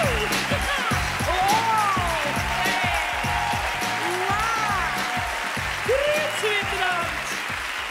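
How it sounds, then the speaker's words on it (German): A crowd applauds steadily, with whistles rising over it and a thumping rhythmic beat underneath. "Grossen Applaus"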